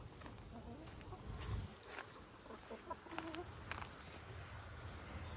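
Chickens cluck softly at feeding time, making scattered short calls of varying closeness over a quiet outdoor background with insects. A person talks briefly in the middle.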